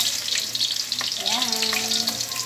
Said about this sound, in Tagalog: Igisa na natin ang bawang. Tapos ang sibuyas.